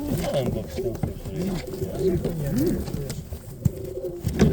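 Pigeons at a pigeon market in Radom coo steadily and close by, giving overlapping low throaty calls, while people talk in the background.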